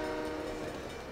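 Train sounds at a railway station in the city-building game SimCity 3000, a short, fairly faint burst of horn-like tonal rumble and rolling rail noise with no talking.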